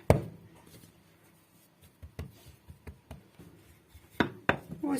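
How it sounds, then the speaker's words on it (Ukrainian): Rolling pin working a thin layer of dough for a sour cream cake on a floured surface, giving soft scattered knocks and rubbing strokes, sparse at first and then louder and quicker toward the end. "І зараз буду розкачувати коржик."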